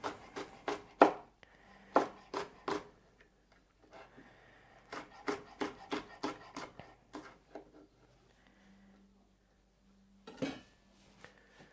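A knife chops chili peppers finely on a cutting board in a home kitchen, in quick bursts of close, crisp taps separated by brief pauses, with faint background hum.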